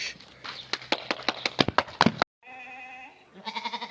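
Young lambs sold on a Turkistan region farm bleat close by in a quick series of short, sharp calls, followed after a brief gap by a longer wavering bleat and another stuttering cry.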